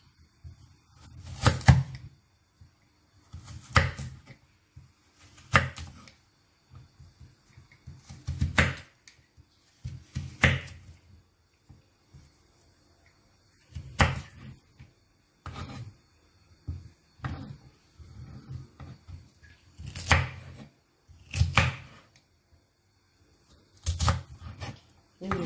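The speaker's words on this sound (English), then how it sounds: "I'm going to slice my carrots now." Knife slicing carrots on a board, repeated crisp cuts in short bursts separated by pauses, close and moderately loud.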